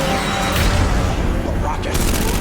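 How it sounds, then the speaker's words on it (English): A rocket explosion from The A-Team film, a heavy boom amid gunfire-like crackle, dense and loud, with voices talking over it. "A rocket."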